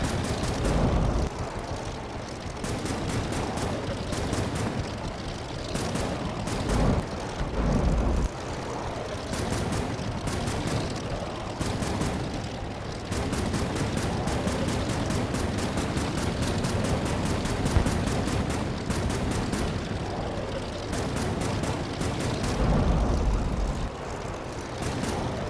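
Dense, sustained gunfire and explosions from aircraft in the video game Air Wars III, built with Unity and HTML5, with rapid bursts of shots stacking over a constant roar for the whole stretch and no talking.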